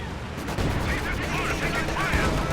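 High explosive artillery barrage in a video game: a dense, continuous rumble of overlapping blasts that swells slightly partway through and stays loud and unbroken to the end.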